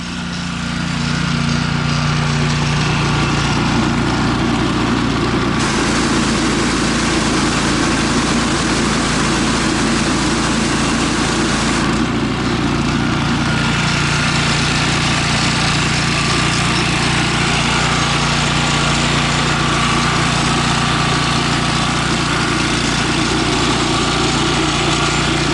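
A gas-powered pressure washer engine runs steadily after a pump replacement, a loud continuous small-engine drone close by with a slight shift in tone partway through and no talk.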